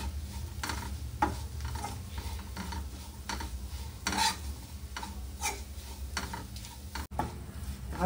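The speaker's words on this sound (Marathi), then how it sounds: "आता खोबरं चांगलं परतून घेऊया।" Grated coconut fries in a pan with turmeric and spice masala, a faint, soft sizzle with light, repeated scraping and ticking of a spoon stirring at a steady pace, no voices.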